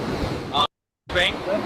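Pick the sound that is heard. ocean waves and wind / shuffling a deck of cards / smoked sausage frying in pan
ocean waves and wind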